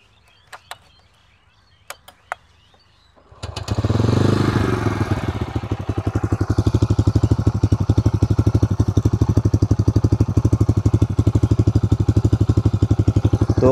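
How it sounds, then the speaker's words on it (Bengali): A Bajaj Freedom 125 CNG motorcycle is kick-started with a few sharp clicks, then its exhaust settles into a steady, close, bassy idle thump that runs on evenly, with no one talking. "এক্সস্ট সাউন্ডটা আমরা একবার শুনে নেব"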